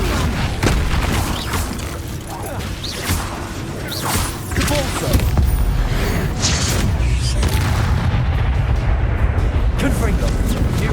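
Spell blasts burst repeatedly in a Hogwarts Legacy wizard duel, a chain of loud booms, thuds and whooshes layered over dense game music and effects, with a voice calling out spell names between the impacts.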